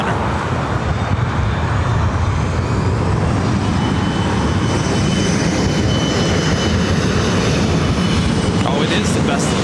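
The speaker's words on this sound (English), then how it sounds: "KLM Flight 604 heading back to Amsterdam in the 787-9 Dreamliner" KLM Boeing 787-9 Dreamliner departing LAX for Amsterdam: a steady, loud jet roar with deep rumble persisting throughout, with some voices mixed faintly into the background.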